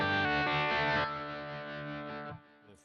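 Electric guitar through a Kemper profiler with a tremolo effect: thick, driven chords that ring out and pulse gently, then decay into a short tail, played close with no talking.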